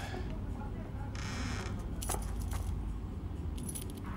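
Keys jangle in short metallic bursts while being handed over, heard under a steady background hum and nearby voices.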